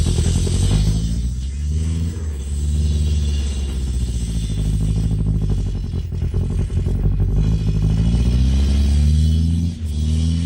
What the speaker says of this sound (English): the engine of this Mitsubishi Delica van starts perfectly